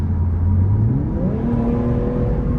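A 2021 Infiniti Q50 Red Sport 400 engine accelerating from inside the car, a steady strong rumble whose pitch climbs smoothly through the rev range.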